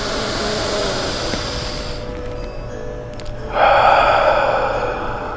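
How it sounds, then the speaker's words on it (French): A person draws a slow, deep breath in through the nose, then lets out a louder, airy exhale. Both breaths are close and there is no talk. "respirez profondément"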